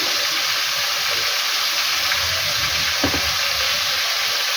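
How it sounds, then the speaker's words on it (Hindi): Chicken tikka sticks fry in hot ghee in a kadai, giving a constant close hiss and bubbling sizzle, with a small clatter around the middle. "हम इसमें चिकन की जो स्टिक है ये वाली रखते जाएंगे और हम इसको पहले फ्राई करेंगे"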